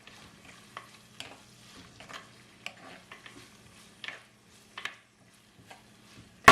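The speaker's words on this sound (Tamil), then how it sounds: "இப்போ இதை மிக்ஸ் பண்ணி போட்டு வதங்க விடுவோம் ஒரு 3 நிமிஷம்." Green chillies, curry leaves and rampe stir-fried in a pan for chicken liver poriyal, with soft scattered sizzling and intermittent scraping stirs of a spoon against the pan, close and fairly quiet.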